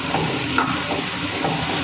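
Carrots and beans stirred in a hot pan, giving a steady, close sizzle with soft scraping that runs evenly for about two seconds and has no voices over it.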